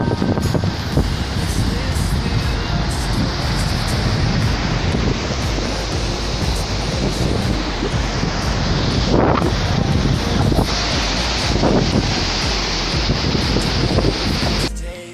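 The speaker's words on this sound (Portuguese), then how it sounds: "Cachoeira maravilhosa, água cristalina." Cachoeira da Torre, a waterfall of crystal-clear water near Cubatão reached by a trail, roars in a constant, close, full-bodied rush that stays loud and unbroken.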